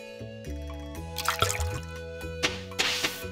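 Water sloshing and dripping into a watering can being refilled in the Stardew Valley farming game, a short run of splashy, trickling bursts layered over steady background music.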